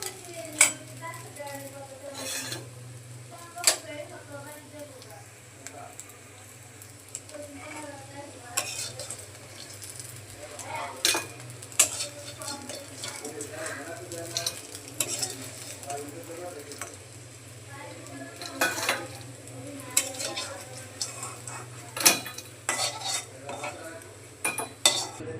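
Lentil fritters (bora) sizzle softly in a pan in a home kitchen while a utensil stirs and scrapes as they are lifted out, with scattered clinks and knocks over the quiet frying.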